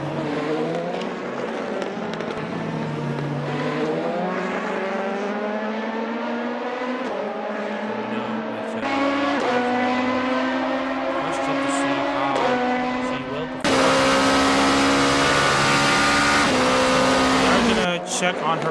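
A race car on a qualifying lap at Motegi exits the final corner with a loud, sustained engine whine that climbs through the gears, shifting pitch steadily. A voice talks over it throughout.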